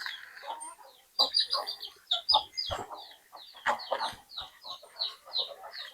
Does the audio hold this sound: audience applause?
no